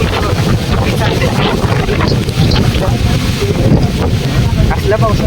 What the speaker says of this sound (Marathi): पाऊस पडतोय तोंडावर लागतोय